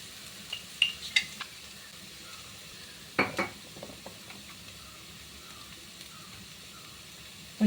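Spices being stirred into prawns frying in a pan, faint soft sizzle with a few quick scraping and clinking strokes of a spoon against the pan, then a quieter stretch.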